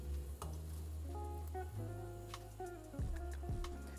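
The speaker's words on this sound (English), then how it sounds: "we're gonna add our broccoli to the rapid boiling water that's salted" Broccoli drops into a pot of rapidly boiling salted water, giving a soft bubbling hiss with faint ticks and a low steady hum from the stove, quiet and close.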